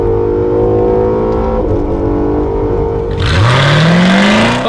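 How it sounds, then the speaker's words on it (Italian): A V6 sports car engine revs loudly and steadily, then climbs sharply in pitch as the throttle opens, a rising, aggressive roar up close. "sentite il suo V6"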